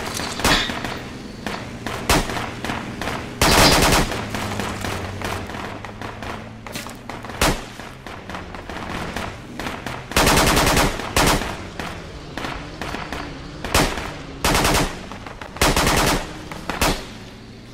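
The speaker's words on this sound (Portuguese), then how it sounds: "Tem uma MG3 no norte, cara, ela tá" An MG3 machine gun fires in bursts in the tactical shooter Project Reality, loud rattling volleys repeating across the scene with scattered single shots and distant gunfire between them.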